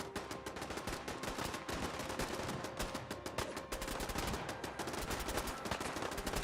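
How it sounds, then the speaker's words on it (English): Roof-mounted turrets in Fallout 4 fire continuous rapid bursts of gunfire, a dense, steady machine-gun clatter that keeps up at moderate loudness throughout, with no talking. "Jesus Christ, those roof turrets are going for it."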